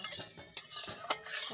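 Cooking oil stirred in a karai wok while raw mango pickle is prepared, a steady scraping utensil rhythm with two brief sharp metallic clinks, close and alone.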